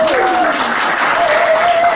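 Loud, sustained audience applause at a live Nashville fan fair radio show, a full crowd clapping steadily, with a voice or cheer rising briefly above it.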